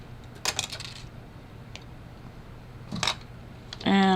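Wire cutters snip jewelry wire for wire-wrapped earrings, giving two short sharp metallic clicks a few seconds apart, close and crisp, followed by a brief handling rattle.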